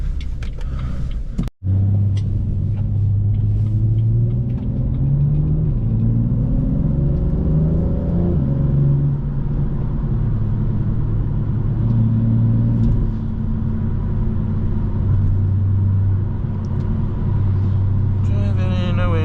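A BMW M2 drives on snowy roads after a snowstorm, with a loud, steady engine drone and road rumble heard from inside the car. The pitch climbs and falls through gear changes, and a sharp dropout occurs near the start.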